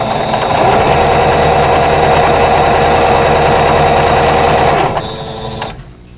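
A sewing machine runs fast and loud, stitching quilt patches for a vintage nine-patch block, its steady rhythmic hum lasting about five seconds before slowing and stopping.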